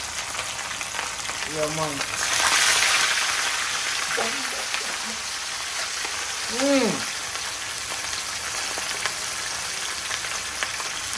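Fish for Jamaican escovitch fish frying in hot oil in a pan, a steady close hiss and sizzle running throughout with a louder crackling surge early on, while someone speaks briefly over it.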